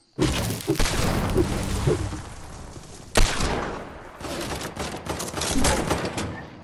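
Quad launcher fire in Fortnite: a dense run of loud, overlapping explosive bursts with one sharp blast near the middle, continuing heavily throughout with no talking.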